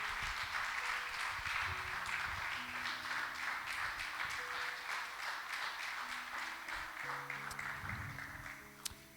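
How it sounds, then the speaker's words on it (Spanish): A church congregation applauds during a Spanish-language sermon, steady sustained clapping from a crowd filling the whole stretch, slowly tapering toward the end with a sustained musical tone underneath. "Dale un aplauso al Señor."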